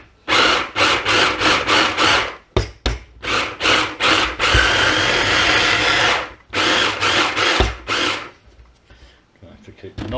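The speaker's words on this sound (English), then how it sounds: "we'll get the blender out and we'll start making our breadcrumbs" A blender blitzes buttered, broken-up bread slices into breadcrumbs in loud, whirring bursts that start and stop repeatedly, some short and choppy, some running several seconds, with brief quiet gaps between pulses.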